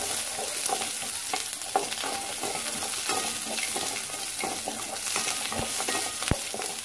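Chopped onion fries and is stirred in a pan for a Tamil drumstick curry, giving a steady sizzle with irregular scraping clicks of the spoon throughout, close and alone with no talking.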